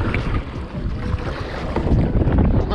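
Strong, steady wind roars across the microphone on a lake during kayak fishing in a thunderstorm, a continuous loud rushing gust with low buffeting rumble and no voices.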